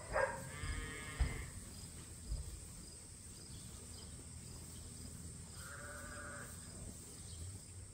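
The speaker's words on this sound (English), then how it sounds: "These are the ram lambs." Ram lambs on a sheep farm, a couple of short bleats, one near the start and another a few seconds later, faint against steady insect buzzing and quiet outdoor background.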